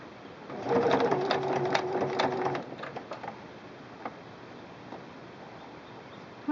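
A Singer Quantum Stylist 9960 sewing machine stitches sequin trim in a steady, rapid mechanical chatter for about two seconds, then slows into a few scattered clicks and taps before falling quiet.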